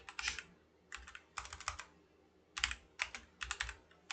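Fingers typing a git command on a computer keyboard, quick close bursts of key clicks in several short clusters separated by brief pauses.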